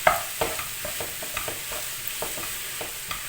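Grated onion, squeezed dry and with no oil yet, sautés in a pan for a minced-meat rolled börek, giving a steady soft sizzle broken by repeated scraping stirs of a spoon, close and clear with no talking.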